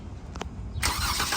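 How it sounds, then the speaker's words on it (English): A Jeep Wrangler Rubicon JL engine remote-starts: a couple of faint clicks, then the engine catches abruptly and settles into a steady idle, heard from nearby outdoors. "If you hit lock 3 times while the car's sitting in a parking lot, 1, 2, 3, that will remote start the car"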